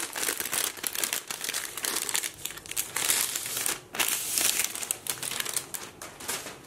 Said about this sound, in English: So we're gonna open the free gift